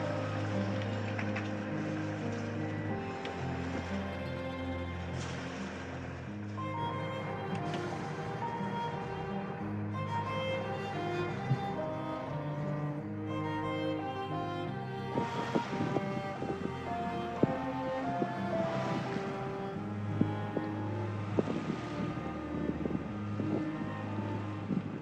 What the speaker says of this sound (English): And absolutely no wind, so we'll be motoring.